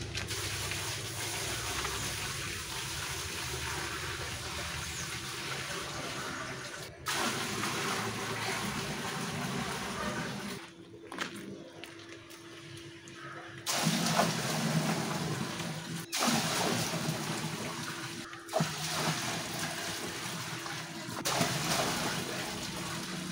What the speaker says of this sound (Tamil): இனி நம்ம தண்ணியை ஃபில் பண்ணிட வேண்டியதான்.